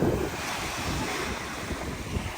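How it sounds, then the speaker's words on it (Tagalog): Ocean waves washing onto a beach in Zambales, a loud continuous roar of surf mixed with gusty wind buffeting the microphone, with no voices. "Isang alon."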